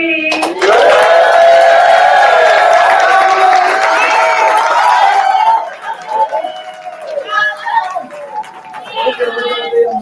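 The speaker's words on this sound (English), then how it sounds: "can we get a big round of applause for Daquan G?" Loud crowd cheering and applause at a live youth competition, building quickly and holding strong for about five seconds before fading into scattered claps and voices.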